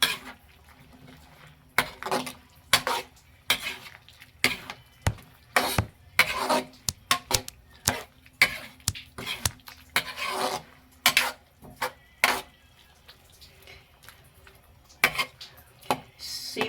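Squid adobo being stirred in a pan after black pepper goes in, a spoon clanking and scraping against the metal in uneven strokes over a quiet background.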